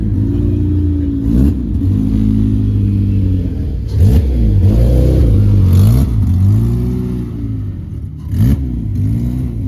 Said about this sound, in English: Wow, we got a ton of cars rolling in now.